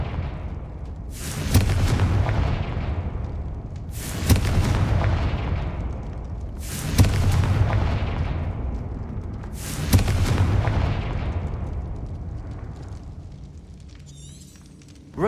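In Hogwarts Legacy, four Confringo spell explosions boom at even intervals of about three seconds, each a heavy blast that rolls off into a long rumbling tail, loud and with no voices.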